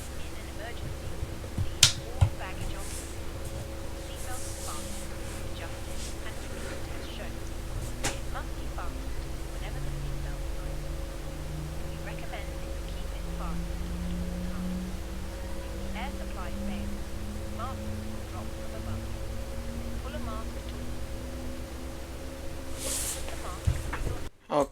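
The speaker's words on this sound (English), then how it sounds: "We'll start engine number 2." Engine number 2 of an airliner spools up in a flight simulator game, a low whine slowly rising in pitch under a steady cockpit hum, with a few clicks and a brief burst near the end.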